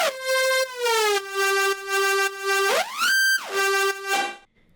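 Heavily processed synth lead from Ableton's Operator, a loud buzzy pitched tone in rhythmic pulsing stabs that slides up sharply and drops back near the end before cutting off.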